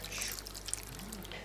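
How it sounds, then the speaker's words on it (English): Vinaigrette pouring over a bowl of pasta salad as a soft, faint trickle that runs steadily for about a second and a half, with no talk. "Now I need to add my vinaigrette."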